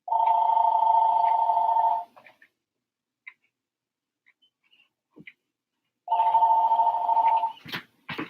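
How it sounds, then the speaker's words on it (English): A phone rings close by in two long electronic trills separated by a few seconds of near silence broken only by small clicks. "My phone's ringing."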